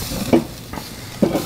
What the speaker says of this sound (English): Let it sear off just for a second.